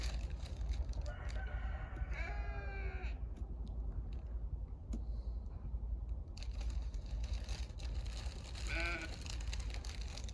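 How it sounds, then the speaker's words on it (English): A goat bleats a couple of times, once early and once near the end, over steady low outdoor rumble with scattered faint clicks and rustles. "There's the goat wanting to know what we're planting in here."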